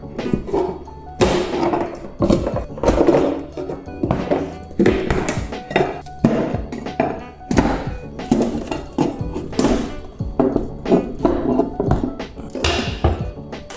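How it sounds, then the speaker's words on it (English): A pry bar works wooden trim off an old cottage wall, producing a steady series of close thunks, knocks and creaks with occasional metallic clinks, irregular but continuous. "just run a knife along the top and then pry the trim off with the pry bar."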